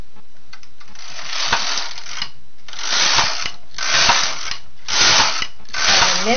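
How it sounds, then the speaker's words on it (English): A knitting machine carriage passes back and forth across the needle bed while knitting a scarf, giving repeated loud mechanical rattling and ratcheting sweeps of about half a second each with short pauses between, and no talking. "attach the thread to the carriage and knit the scarf"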